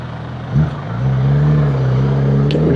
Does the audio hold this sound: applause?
no